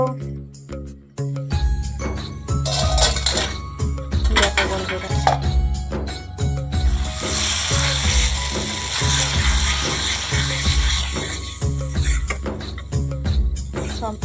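Potatoes and pointed gourd being fried and stirred into a thick curry in a pan, with loud metallic clatter of a utensil scraping and knocking the pan in a steady rhythm over continuous sizzling, close up.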